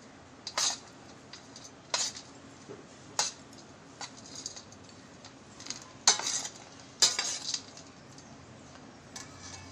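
Sabudana khichdi stirred in a pan with a spoon, a series of sharp scraping clinks roughly every second over a quiet background, close and without voices.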